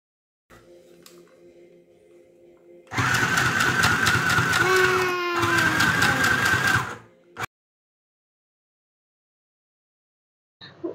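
A mini sewing machine runs in two bursts of steady, rapid stitching with a longer stitch length. There is a brief pause between the bursts, then a short clunk and quiet, with faint handling noises before and after.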